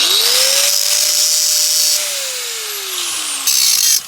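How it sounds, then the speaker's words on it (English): An angle grinder bites into stainless steel screws and throws sparks: a loud, close high-pitched grinding whine whose pitch rises, holds, then sags under load before a final burst, with no talk. "Again, hit it with the angle grinder. We get sparks."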